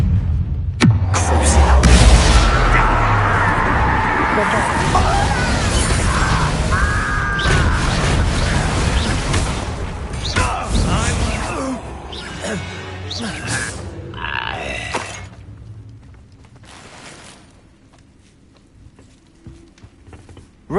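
Bombarda blasting spell in the Hogwarts Legacy video game: heavy booms and crashing impacts pile up with grunts and clattering in a loud, busy game mix that fades toward the end.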